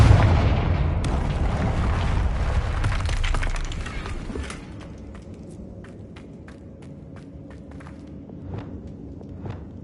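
A Confringo blasting spell from Hogwarts Legacy goes off as a loud, dense explosive burst with rumbling debris. The burst lasts several seconds, then fades to quieter crackling and scattered pops.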